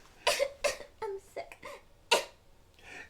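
A person coughs repeatedly in short, close bursts, several hacking coughs spread unevenly, with light throat sounds and a voice mixed in among them.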